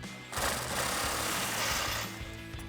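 A 21mm socket on a swivel adapter spins a nut off a Ford F-150 frame rail, making one loud, steady, buzzing mechanical whir that lasts under two seconds, up close, with no talking.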